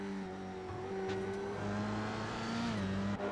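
Open-wheel race cars lap Oulton Park in a racing video game, engines droning loudly and steadily with shifting pitch as they rev and change gear, a continuous close mechanical whine throughout.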